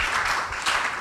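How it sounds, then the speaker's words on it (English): At an outdoor broadcast gathering, a crowd claps briefly for a girl, giving a short burst of scattered applause at moderate volume. "Make una clap for that girl."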